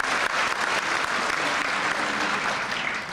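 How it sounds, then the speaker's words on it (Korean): An audience at a Korean unification seminar gives sustained applause to welcome a speaker, steady dense clapping from a full room, easing slightly toward the end. "큰 박수로 맞이해 주시기를"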